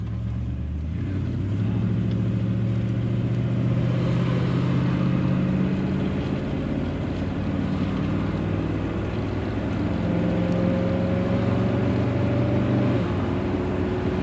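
An old car, a large sedan one step below a Lincoln, idles and cruises with a steady low engine drone that rises slightly in pitch over time, heard close and continuous with no talk over it.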